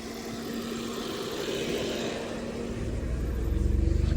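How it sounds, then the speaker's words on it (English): A resident's car drives out of a residential estate in Mowe, its low engine rumble building and growing closer and louder toward the end over steady outdoor wind noise. "So you can see a resident driving out of the estate."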